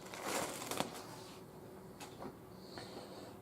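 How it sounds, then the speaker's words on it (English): Plastic bag crinkling and rustling as it is pulled open with hands slick from transmission fluid during a 700R4 automatic transmission rebuild, quiet close handling with a few sharper crackles. "try to open a plastic bag with transmission fluid all over your hands"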